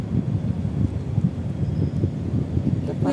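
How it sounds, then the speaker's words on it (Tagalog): Wind gusting across the open hilltop of Garden Hill in Sham Shui Po, a steady broadband rush with rumbling buffeting on the microphone throughout, unbroken and fairly loud. "Ang ganda ng ano ng hangin niya."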